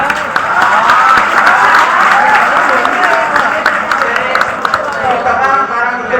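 Audience at a school farewell speech clapping in a steady, dense roar of applause that holds loud throughout, with voices mixed in.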